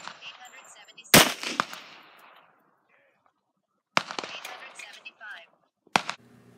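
Three sharp gunshots from an MP pistol firing .45 ACP round-nose flat-point handloads with Alliant E3 powder ring out at an outdoor range, spaced a few seconds apart, each followed by a short echoing decay, with some talking between.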